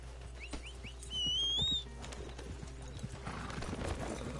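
Steady clip-clop of horse hooves plods along in Red Dead Redemption 2, joined by a short bird whistle and a horse's whinny, with the hoofbeats growing busier toward the end.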